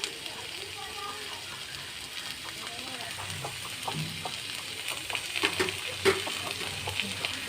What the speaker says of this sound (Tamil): தக்காளி வதங்குது. தக்காளி நல்லா வதங்கட்டும்.